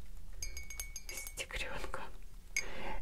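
A glass mug is clinked and tapped as it is handled up close, giving several bright, ringing taps over soft whispered speech.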